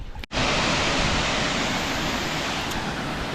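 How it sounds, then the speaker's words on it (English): Steady, dense roar of rushing water, loud and continuous like a nearby waterfall, after a brief cut at the start. "Waterfalls everywhere here."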